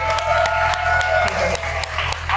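A small group of people applauds near a garage with a C63 and KTM, with a few quick claps standing out over a loud, steady engine rumble and background voices.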